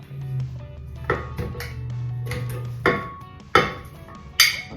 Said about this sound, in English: So I'm gonna add the fruits to the blender now.